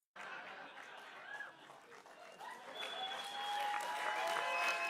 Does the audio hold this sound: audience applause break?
yes